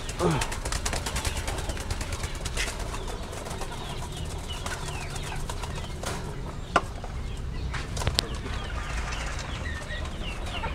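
Pigeons in a pen coo and shuffle, with occasional wing flaps and a few sharp knocks amid a constant low background rustle, while people talk quietly nearby.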